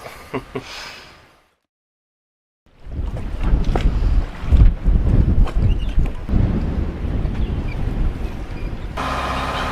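A sailboat underway in strong weather, with loud buffeting wind noise and rushing water filling most of the clip after a brief quiet gap, close and continuous.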